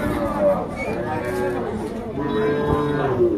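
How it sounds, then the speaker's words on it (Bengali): Cows low at a busy cattle market, with several drawn-out moos, one near and loud, under a background of crowd chatter and people talking. "এই গরুটার দাম চাইতেছেন কত ভাইয়া?"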